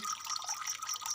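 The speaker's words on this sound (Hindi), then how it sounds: "पानी चल," A kitchen tap runs steadily while a Pakistani aloo chicken dish is being cooked, the water hissing at a fairly even level for a moment with no talk.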